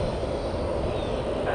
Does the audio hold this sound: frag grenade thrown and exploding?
no